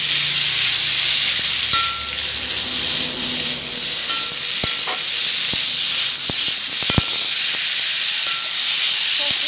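Fish, potatoes and drumsticks fry in oil for a Bengali curry, giving a loud, continuous hissing sizzle with scattered spoon taps and scrapes against the pan, without any speech.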